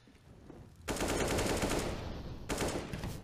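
Rapid automatic gunfire from a CS:GO match on the Mirage map, a loud sustained burst after a quieter lead-in, breaking briefly and then resuming with a second volley.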